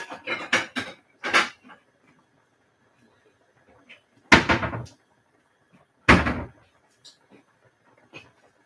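Chicken feet being stir-fried in a kitchen pan produce clattering bursts of utensil scraping and metal clanks, separated by quiet pauses.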